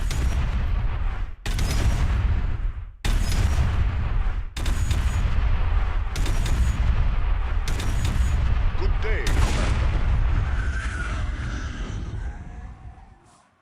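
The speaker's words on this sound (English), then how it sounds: "The Pariah's death sound is really where it's at, but the explosion is not nearly as grand as it ought to be" Pariah ship death explosion in the HYDRA game mod: a string of loud, booming gunfire-like blasts cut by short gaps, then a rising screaming whine over a long rumble that fades out, with a brief spoken greeting.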